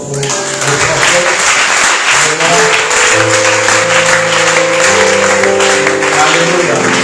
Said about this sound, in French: Est-ce qu'on peut honorer et acclamer très fort pour le prophète?